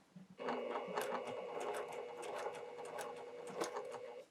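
A domestic sewing machine stitching an irregular curve in patchwork, running in a steady fast whir with slight rhythmic ticking and a short pause near the start, close and alone.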